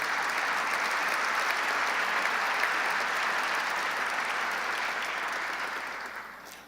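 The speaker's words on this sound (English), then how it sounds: "let's give Pat Foy a round of applause as the new chairman" A large audience applauds the new MTA chairman at a business association event, a thick, even roar of clapping that holds steady and then begins fading near the end, with no one speaking.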